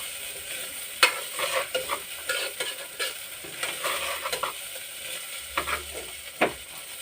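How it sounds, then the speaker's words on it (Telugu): Frying in a pan with a spoon stirring, a steady broadband sizzle broken by sharp scraping clinks of utensil against metal at intervals, close and moderately loud with no talking. "1 నిమిషం వేయించి"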